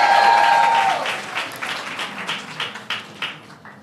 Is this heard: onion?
no